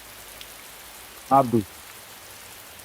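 Steady rain falls through the whole scene as a soft, even hiss, with a brief spoken line cutting in over it partway through.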